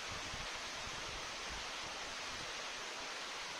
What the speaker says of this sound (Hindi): झरने की आवाज